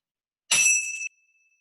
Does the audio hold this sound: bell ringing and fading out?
yes